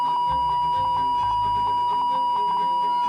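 A steady, loud electronic censor beep tone runs continuously, masking swearing beneath it, with faint low muffled voice underneath.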